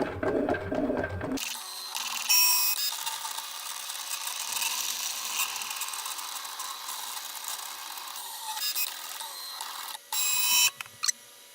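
A stencil cutting machine slices through medium 216 GSM cardstock, giving a steady whirring, ratcheting mechanical drone that runs for about ten seconds after a brief burst of louder noise, ending with a few short stops and clicks.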